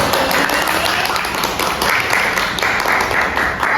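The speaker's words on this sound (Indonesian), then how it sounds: "Mungkin boleh tepuk tangannya dulu untuk pemateri kita pada pagi hari ini." An audience claps for presenters at a morning health-education session on dengue fever, a dense, steady patter of many hands filling the room continuously for a few seconds.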